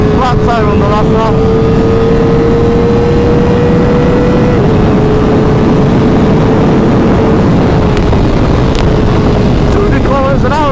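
A Kawasaki ZX-4RR 400cc sport bike engine screams at high revs on a race track, holding a steady loud whine with small pitch shifts as it runs through gears, under heavy wind roar, with a voice speaking at times.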